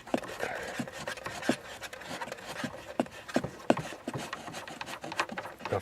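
A tail light nut on a Peugeot 407 is unscrewed by hand, giving soft, repeated scraping and rubbing clicks at close range, fairly quiet and irregular.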